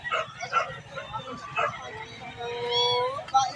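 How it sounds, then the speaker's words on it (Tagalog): Several cats meowing in drawn-out, rising and falling cries at a crowded pet display, mixed with steady people talking nearby. "Mga pusa pa rin, no?"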